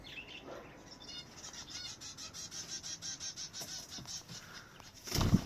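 Small pet finches flutter close by, with a rapid series of soft, rhythmic wingbeats over a faint room hiss, and a few thin chirps near the end.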